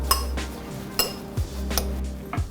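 Bulgogi beef seasoned with salt and fresh cracked black pepper is mixed in a bowl. Utensils scrape and clink against the dish in irregular knocks over a low background hum.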